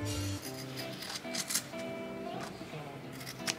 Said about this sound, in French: on va couper un peu pour réduire ici maintenant que c'est cousu